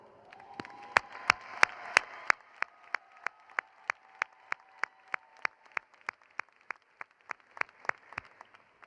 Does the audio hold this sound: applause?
yes